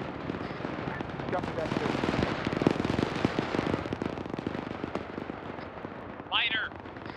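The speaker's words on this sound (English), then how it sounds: "Put out suppressive fire." Suppressive gunfire in the military shooter ArmA, rapid, crackling bursts of shots with irregular rhythm, fairly loud but somewhat distant, with a radio-style voice speaking briefly over it.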